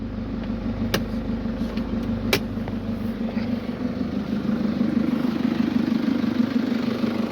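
Close, steady idle of a 2007 Nissan Patrol 3.0 diesel engine with a low rumbling hum, punctuated by a couple of sharp clicks early on.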